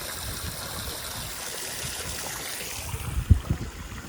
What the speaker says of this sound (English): That thing's moving a lot of water.